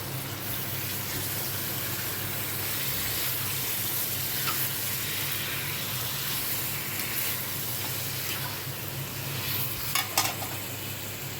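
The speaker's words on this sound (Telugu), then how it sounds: "ఇప్పుడు దీంట్లో వేసేసి కింది మీద కలుపుకోవాలండి." Chicken frying in a pan while being stirred makes a dense, loud, continuous sizzle close by, with soft scraping and a short clatter of utensil on pan near the end.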